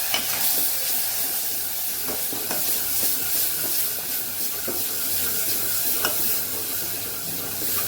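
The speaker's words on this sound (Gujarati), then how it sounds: "હવે આપણે ટમેટું એક ખમણીને રાખેલું એ પણ અહીંયા ઉમેરી દઈશું" Grated tomato added to onions sautéing in a pan for South Indian sambar, a steady loud sizzle and hiss close by with the clatter of a spoon stirring throughout, no talk.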